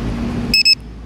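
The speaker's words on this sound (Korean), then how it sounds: "삐삐를 꽂아줍니다." An RC car's electronic beeper gives a short double beep right after being plugged in, two quick high-pitched tones close up following a quiet steady hiss.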